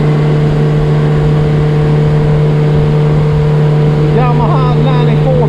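A 2011 Yamaha four-stroke outboard motor runs steadily on a boat, its loud, even drone holding constant throughout, with a few faint voices briefly audible near the end.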